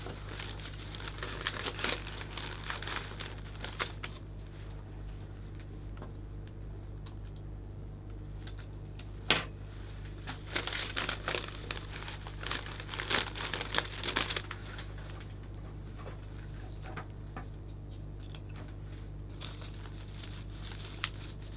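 Cellophane wrapped around a Christmas gift bag flower arrangement with chrysanthemums crinkles and rustles in irregular close bursts over a low steady hum, growing busiest in the middle.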